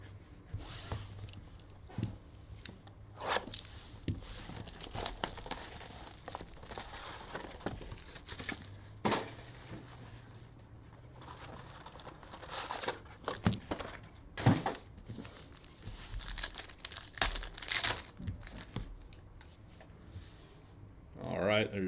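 Cardboard and wrappers crinkle and tear as a hobby box of 2023 Panini Luminance football cards is ripped open, with scattered rustles, thunks and handling noises under someone talking throughout.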